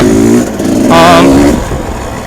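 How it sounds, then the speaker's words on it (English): A modified 1997 Kawasaki KDX 220 dirt bike engine, close and loud, idles roughly, then swells into one quick rev that climbs in pitch before easing back down. "It's a 1997 Kawasaki KDX 220. Obviously not stock sound."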